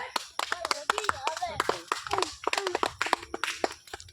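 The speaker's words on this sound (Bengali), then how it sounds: "একদম হাততালি সবাই" A small group claps in quick, uneven bursts during a bottle-flip chowmein-eating challenge. Voices talk over the claps throughout.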